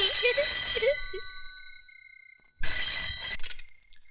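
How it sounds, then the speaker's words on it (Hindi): A telephone rings with a bright, trilling bell, two bursts separated by a short pause, loud and close with no talking. "लो भैया, बज गई आपकी घंटी।"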